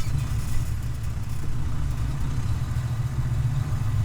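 A Class A truck rolls slowly at about five miles per hour during an in-cab brake test, its engine giving a steady, close, low droning rumble throughout with no talking.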